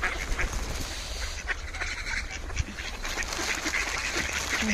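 Ducks quack and honk repeatedly in a noisy outdoor flock, calls overlapping at moderate distance with no talking.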